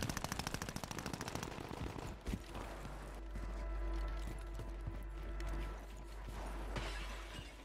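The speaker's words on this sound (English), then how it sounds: "People are shooting left and right in the game." Rapid automatic gunfire from a shooter video game, a dense burst of shots up front giving way to scattered single shots and a low rumbling bed, fairly loud with no talk.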